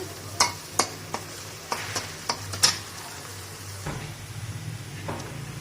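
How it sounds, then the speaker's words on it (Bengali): Onion and ginger-garlic paste go into a hot pan: several sharp utensil knocks and scrapes sound against the pan, then a softer, continuous sizzle of frying takes over, close by. "পেঁয়াজ দিয়ে দিচ্ছি এটা আদা রসুন একসাথে মিক্স করে বাটা দিয়ে দিচ্ছি"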